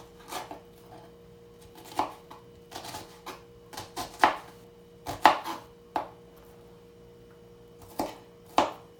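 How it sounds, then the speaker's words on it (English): Knife chopping an onion with vertical cuts on a board: a series of crisp, irregular chops, some in quick pairs, close and fairly loud with quiet gaps between them. "And then you get the onion tightly and you do vertical lines."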